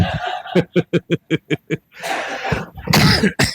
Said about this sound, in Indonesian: kenapa saya tiba batuk nih?